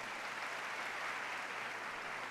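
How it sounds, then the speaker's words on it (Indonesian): A church congregation claps steadily and evenly at fairly low volume, with no voices rising over it. "Sekali lagi berikan tepuk tangan yang meriah"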